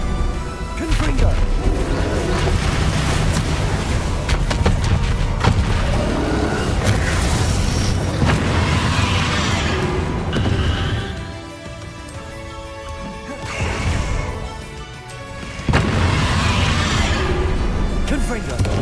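Confringo blasting spells in a Harry Potter video game set off repeated booming explosions and crashes, loud and close, over a busy battle with heavy low rumble, while a person talks over the action.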